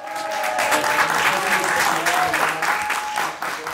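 Applause from a comedy-show audience at the Catskills Comedy stage, a dense, steady wash of clapping filling the whole stretch at close range, with faint whistles or cheers rising through it.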